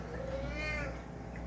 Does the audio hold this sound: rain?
no